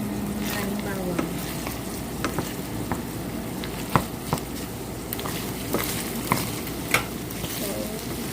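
A generous amount of garlic frying in a pan gives a steady, close sizzle throughout, with occasional light taps and clicks from stirring.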